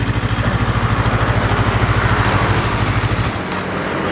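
An SM Motor SM3 motorcycle's 400cc two-cylinder engine idles steadily with a throbbing, even pulse, loud and close, dipping slightly near the end.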